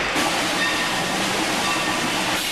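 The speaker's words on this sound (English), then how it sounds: "With all aboard, we're rolling down the rails to Palestine." A train rolls steadily along the rails, a broad continuous rumble and hiss with a faint high whistle-like tone, loud and close for the whole stretch with no talk.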